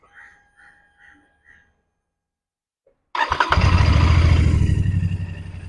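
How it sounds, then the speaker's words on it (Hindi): A Royal Enfield Bear 650 motorcycle parked on its side stand starts up: a few faint clicks, a pause, then the engine catches abruptly and settles into a loud, steady, rumbling idle close by. "अभी मोटरसाइकिल साइड स्टैंड पे है, तो एक बार स्टार्ट करके देखते हैं कि साइड स्टैंड फंक्शनल है या नहीं।"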